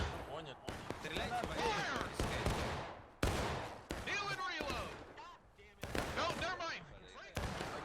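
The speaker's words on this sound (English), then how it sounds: "Look at these shots coming in." Musket volleys crack out repeatedly on a large historical battlefield in a multiplayer war game, sharp reports scattered near and far, with someone talking over them throughout.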